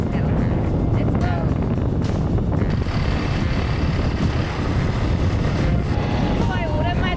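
A motorcycle carrying two riders on the road to Kuang Si Falls near Luang Prabang, Laos: constant engine hum buried in heavy wind buffeting on the microphone, loud and unbroken, with someone speaking over it.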